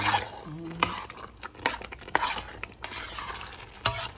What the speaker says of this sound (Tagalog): Lagyan na natin yung sauce. Haluin.